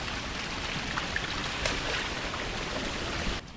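Steady, dense rushing of heavy rain and waterfalls in a forest, loud and continuous throughout, with no voices.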